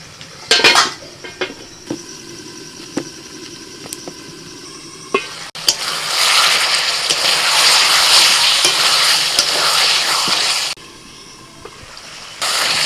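Chicken is stirred in a pan with metal utensil scrapes and clanks, then a loud steady sizzle of frying rises for several seconds before dropping back to quieter stirring and a final clatter.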